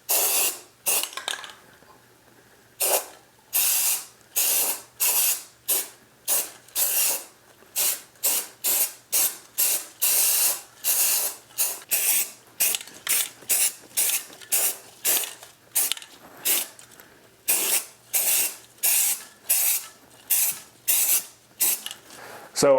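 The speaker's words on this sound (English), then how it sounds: "This lacquer primer just evaporates like instantaneously. It's just spray paint." Repeated short bursts of lacquer primer sprayed from an aerosol can, a steady rhythm of hissing blasts separated by brief pauses, close and fairly loud, with no talking.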